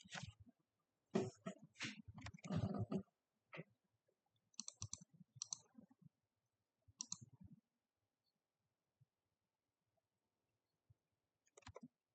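Sparse clicking of keyboard keys from people typing during an online class session, coming in short bursts separated by long silences, quiet and fairly close.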